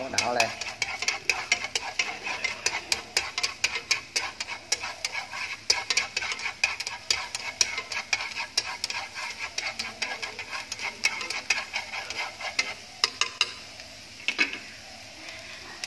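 Garlic and shallots stir-fried in a pan for a duck and bamboo shoot noodle soup, with a steady clatter of utensil scraping and light sizzling running throughout, close and continuous, loosening near the end.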